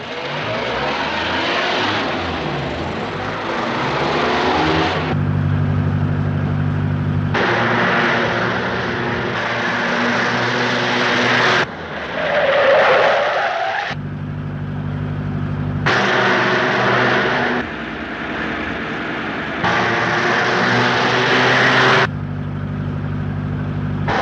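A car driven fast in a 1937 film scene: steady loud engine roar across the stretch with abrupt cuts between takes and a brief higher whine in the middle, no talk over it.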